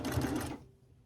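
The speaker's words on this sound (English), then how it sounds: "we're going to line up, do a couple stitches" A sewing machine stitching quilt pieces runs a short, rapid burst of close mechanical stitching, then stops abruptly into near silence.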